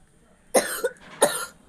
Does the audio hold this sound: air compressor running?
no